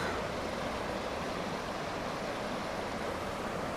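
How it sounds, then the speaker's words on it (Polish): A mountain stream running high with water rushes in a steady, dense broadband roar, constant and unbroken with no voices. "tu jakiś dosyć wysoki spływ wody jak na teraz"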